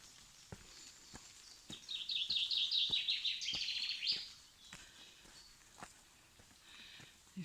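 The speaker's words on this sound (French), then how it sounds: "D'autres oiseaux." A bird sings a bright, rapid trill for a couple of seconds in the French countryside along the Camino path between Éauze and Nogaro, with faint footsteps crunching slowly throughout.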